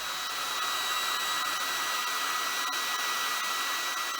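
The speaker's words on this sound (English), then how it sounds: "keep the hairdryer on it." A hair dryer blows heat onto a glow-in-the-dark star stuck to a ceiling to soften its glue, a loud steady whir held close for the whole stretch with no talking.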